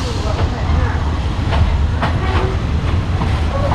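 Inside a third-class train out of Bangkok bound for Ayutthaya, Thailand, the wheels clatter on the tracks in a continuous loud rumble, with sharp periodic clicks and a faint voice or two under the noise.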